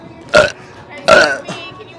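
Two loud, voiced burps about a second apart, the second longer and rougher, followed by a fainter third belch-like sound, in a public setting with no other talk.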